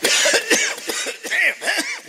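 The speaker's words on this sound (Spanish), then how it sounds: "un poco de tos." Someone coughs repeatedly in quick, harsh bursts, loud and close, a rapid series of rough coughs with brief gaps between them.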